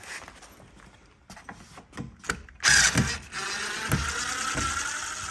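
White stainless steel screws are backed out of a CNC window cupola, first with a few sharp mechanical ratcheting clicks, then a louder steady whirring grind close by, with no talk.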